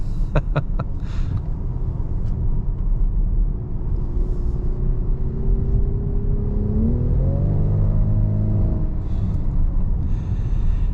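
A 2025 VW Atlas Cross Sport R-Line engine note is piped into the cabin while driving, a steady low drone that swells into a rising rev, then drops as the gearbox shifts, over road rumble.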